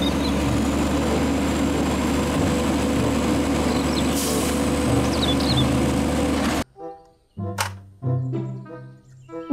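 A toy garbage truck runs with a steady, droning mechanical engine hum, loud and close, for several seconds before it cuts off and a voice speaks.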